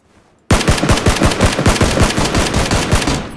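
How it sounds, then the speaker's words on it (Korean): Rapid automatic gunfire in PUBG, a fast run of sharp, evenly spaced bursts that starts abruptly after a short silence and keeps going loud and steady to the end. "멀리서 쏜다 멀리서."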